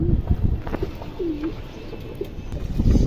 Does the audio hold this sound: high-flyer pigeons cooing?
yes